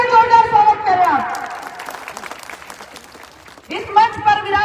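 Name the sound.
audience applause welcoming speakers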